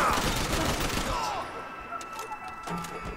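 Rapid enemy gunfire fills a Max Payne 3 shootout, a dense loud burst of overlapping shots that thins out toward the end, with a voice heard over it.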